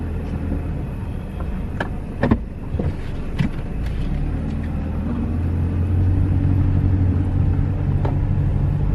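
Car engine idling and rumbling steadily on a quiet rural highway at night, a constant low drone that swells slightly toward the end, with a few faint clicks.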